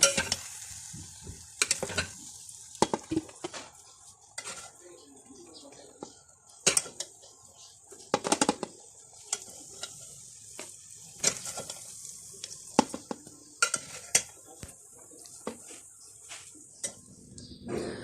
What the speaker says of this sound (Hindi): अब मैं इसको डिश आउट करती हूँ।